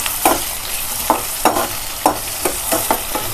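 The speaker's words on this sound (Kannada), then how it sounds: "ಈ ಬೆಳ್ಳುಳ್ಳಿ ಸ್ವಲ್ಪ ಬ್ರೌನಿಶ್ ಕಲರ್ ಬರಬೇಕು. ಸೊ ಅಲ್ಲಿಗಂಟ ನೀವು ಅದನ್ನ ಫ್ರೈ ಮಾಡ್ಕೊಬೇಕು." Garlic fries in a pan until brown, a close steady sizzle punctuated by regular scraping strokes from stirring, roughly two per second.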